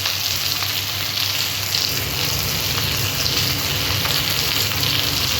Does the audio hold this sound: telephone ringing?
no